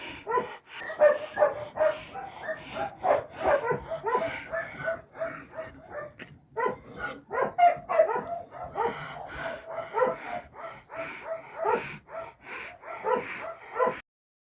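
A sick dog with a neck tumor lies in a shelter kennel, giving repeated short barks, yips and whimpers at close range, with a rooster-like call faintly mixed in and no talk over it.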